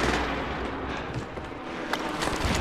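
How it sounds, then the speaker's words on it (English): Rumbling airstrike explosions and gunfire in a Warzone video game match on Rebirth Island, a dense continuous booming wash with a few sharper cracks standing out, no speech. "Airstrike deployed at my mark."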